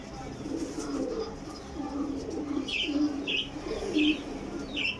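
Desi pigeons coo in a low, soft rolling rhythm, several throaty calls repeating close by, while sharper chirps rise above them toward the end against a light background hiss.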